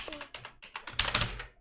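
Keys clatter in quick bursts of close, crisp taps as a command is typed on a computer keyboard during a Windows privilege-escalation exercise, with brief pauses between runs of keystrokes.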